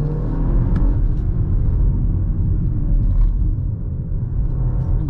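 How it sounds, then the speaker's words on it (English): A 2024 BMW X2 M35i pulls hard under full throttle, heard from inside the cabin as a steady, deep engine rumble and road roar that holds at a constant level without speech. "Now acceleration when you put your foot down."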